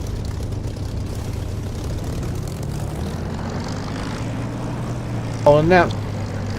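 A Spitfire's propeller engine drones steadily in the DCS flight simulator, a low continuous hum, with a short burst of someone talking near the end.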